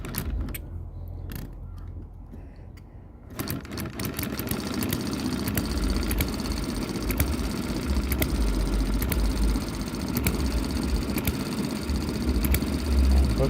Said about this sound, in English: I also reduced the octane of the fuel slightly to make the engine run slower.